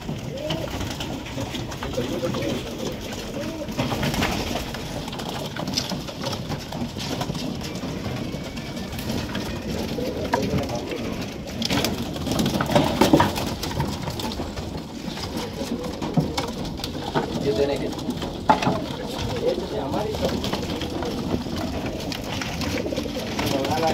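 Old-breed pigeons kept for sale in Bangalore coo steadily and keep rustling in a dense, continuous murmur of birds, with talking mixed in over the whole stretch.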